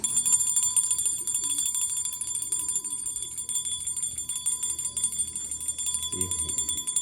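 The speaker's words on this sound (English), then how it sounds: "Let me ring the bell." A hand bell rung to call pigeons rings continuously, bright and metallic with a rapid jangling rattle, while a voice speaks briefly underneath near the end.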